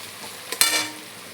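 Chopped onion hits hot oil in a pan for a prawn malai curry, a sudden burst of sizzling that flares up loudly and then settles back to a low hiss.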